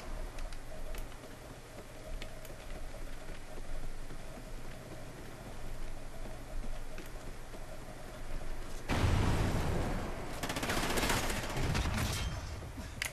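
Gunfire in Call of Duty: Ghosts multiplayer, with sparse distant shots and game noise that erupt into loud, dense bursts of rapid automatic fire near the end.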